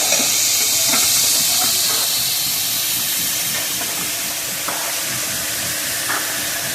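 Carrots fry in hot oil and ghee with a loud, continuous steamy hiss and sizzle, close up, broken only by a few faint clicks of stirring and no voices.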